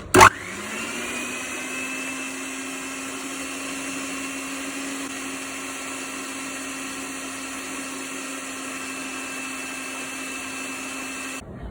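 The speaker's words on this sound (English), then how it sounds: "We need to beat until the mixture is light and fluffy." Electric hand mixer beating cookie batter of creamed butter, sugar, vanilla and room-temperature egg, switching on with a sharp click and then whirring at a steady pitch for about eleven seconds before cutting off, close and alone.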